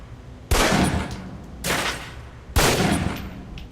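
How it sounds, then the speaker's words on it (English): Three single pistol shots fire down range at a target on a training range in the Alpha Protocol game. Each report is sharp, loud and close, spaced about a second apart, and each trails a short echoing decay. "Equip the pistol, then aim down range and take some shots at the target."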